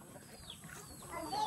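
A chicken that has slipped its tether clucks in short soft bursts, fairly faint and close, with a rising squawk near the end amid light background noise.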